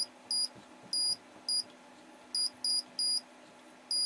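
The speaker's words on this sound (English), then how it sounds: "When we put two probes together, it beeps, making a complete circuit." A multimeter in continuity mode, checked on the lines of an Xbox One S, gives short high electronic beeps, about eight separate ones at irregular intervals over a quiet background hum.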